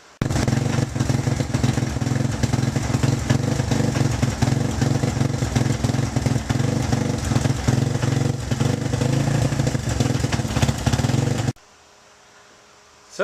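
A motorcycle fitted with an automatic chain oiler runs steadily and loudly close by, its engine droning with a clattery idle for about eleven seconds before cutting off abruptly to near silence.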